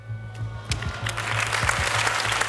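Studio audience applause at the finale of a French television contest show, starting thin and building into steady clapping across a couple of seconds, with a low steady hum underneath.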